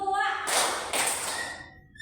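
Hand clapping in a classroom counting game, with two firm claps in quick succession that ring briefly and fade, following a spoken voice.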